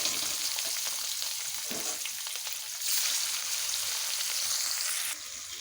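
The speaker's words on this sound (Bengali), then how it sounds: "আমার তেলগুলো গরম হয়ে গেছে এবারে মাছগুলো ভেজে নেব দিয়ে দেবো মাছ" Rohu fish pieces fry in hot oil with a loud, dense, continuous sizzle that swells briefly partway through, close up and with no talk.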